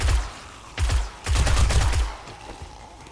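Rapid bursts of automatic gunfire in a video game, loud and close, coming in several dense clusters over a few seconds with brief pauses between them.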